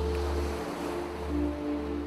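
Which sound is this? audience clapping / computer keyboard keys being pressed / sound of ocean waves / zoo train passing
sound of ocean waves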